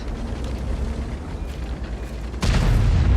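Tank cannon firing in a World of Tanks match with the Swedish Strv S1 tank destroyer: a low engine rumble, then one sudden heavy boom near the end that rolls into a loud sustained roar.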